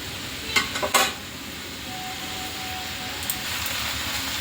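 Spiced chicken for chicken kosha is stir-fried in a pan with a steady, low sizzle, and a few sharp spoon clatters come early on.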